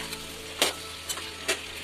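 Pumpkin stir-fried in a pan, a soft steady sizzle punctuated by three or four short scraping bursts as the pieces are stirred, fairly quiet and with no voices.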